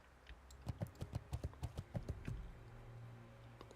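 Horse mount in World of Warcraft Classic trotting, a quick even run of about a dozen clip-clopping hoofbeats that stops after two seconds, leaving a faint low hum.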